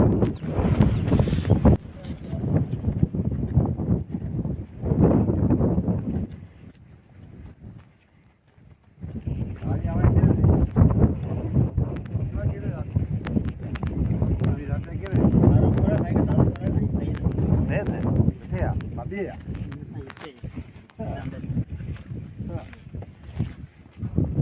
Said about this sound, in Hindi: हवा बहुत शदीद है, तेज हवा के झक्कड़ चल रहे हैं।